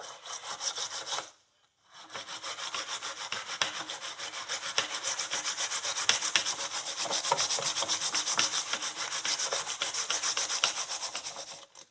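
Rust being scrubbed off a used horse's horseshoe, a steady, rapid rasping rub that runs almost without a break, pausing only briefly near the start, close and fairly loud with no talk.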